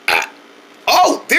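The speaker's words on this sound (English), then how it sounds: "I never heard a baby burp that loud before." A baby lets out two loud, close burps in quick succession, the second cut off at the end, with quiet between them.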